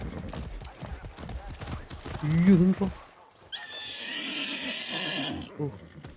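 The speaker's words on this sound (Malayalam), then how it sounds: "എന്റെ എന്നാ സ്പീഡാണല്ലോ കുതിര കുതിരേനെ ഓടിക്കാൻ ഇച്ചിരി പാടാട്ടാ" A horse in the video game Far Cry 6 gallops with rapid, loud hoofbeats, lets out a sharp neigh, then snorts and whinnies further as the pace eases, while someone talks over the game sounds.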